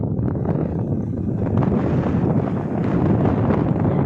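Steady stormy wind blowing hard across the microphone in a village, a continuous low roar with gusty swells and buffeting throughout.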